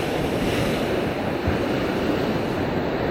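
Waves break and wash along a stretch of beach, a loud, continuous rushing surf roar with wind buffeting the microphone, with no voices.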